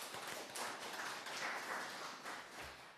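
A church congregation applauding during a Sunday worship service, a broad, steady wash of clapping hands lasting a few seconds from the room at moderate distance, with no voices over it.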